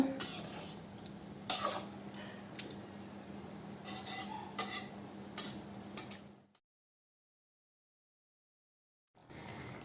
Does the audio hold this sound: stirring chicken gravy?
yes